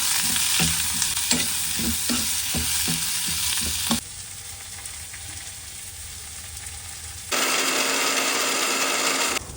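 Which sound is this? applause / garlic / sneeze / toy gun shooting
garlic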